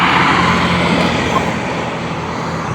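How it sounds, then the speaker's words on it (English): Several cars idle at a traffic light on a morning street, a steady broadband engine rumble with a low hum that stays even throughout, fairly loud and close, with no voices. "The sounds of cars waiting for a traffic light."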